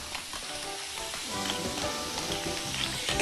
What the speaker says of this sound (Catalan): No deixem de remenar.